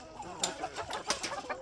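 Chickens being fed at night in a netted coop, clucking softly in short close bursts with some wing and movement noise.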